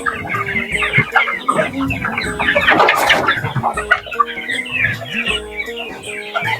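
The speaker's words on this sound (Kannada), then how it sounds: "ಇಲ್ಲಿ ಒಂದು 3000 ಕೋಳಿ ದೊಡ್ಡ ಕೋಳಿ ಇದಾವೆ ಸರ್, 3 ತಿಂಗಳದ್ದು." A flock of three-month-old country chickens, hens and roosters mixed, clucks continuously inside a farm shed, close and loud with overlapping calls and one brief burst of busier squawking in the middle.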